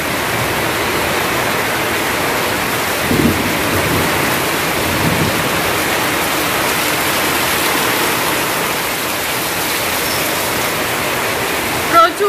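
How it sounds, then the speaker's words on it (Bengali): Heavy rain pours steadily onto a flooded veranda. It makes a dense, loud, continuous roar that lasts throughout and barely changes. A brief bump of handling noise is heard near the end. "এই দেখো কি জোরে বৃষ্টি হইতেছে। দেখো এই দেখো বারান্দা জলাইয়া পড়ছে"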